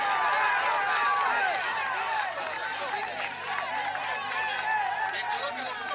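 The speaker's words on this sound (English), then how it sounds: "This is a massive crowd" Massive roadside crowd at a Tour de France mountain climb, a dense continuous roar of cheering and shouting voices, loud and steady throughout with no break.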